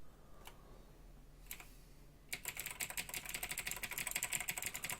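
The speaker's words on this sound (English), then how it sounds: "You can just hear the fucking clickety-clacks on my keyboard" Rapid clicking of computer keyboard keys during typing, close and crisp, starting with a few isolated taps and then breaking into a fast, steady run of clacks with no talking.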